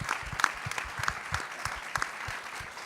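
Audience applause at the Carbon Free Boston report release, a steady wash of clapping from a moderate-sized crowd with a few sharper nearby claps, continuing evenly without speech.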